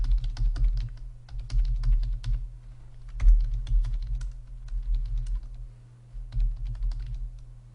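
Fast typing on a computer keyboard while entering data into a Google Sheets spreadsheet, in quick bursts of clicking keys with short pauses between them, close and clear over a low steady hum.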